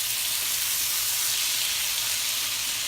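Chopped cilantro sizzles in a hot frying pan for a frittata, a steady close hiss of frying with no voices.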